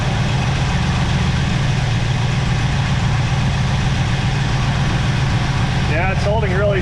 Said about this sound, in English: Probably can't tell in the video, but the idle changed a little bit.